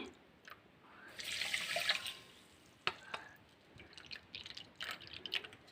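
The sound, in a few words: pouring water into sugar for syrup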